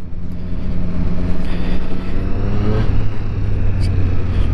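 A Triumph Street Triple RS 765cc three-cylinder motorcycle engine runs loud and close, a steady idling drone with a slight rise in revs partway through, heard alone with no talking.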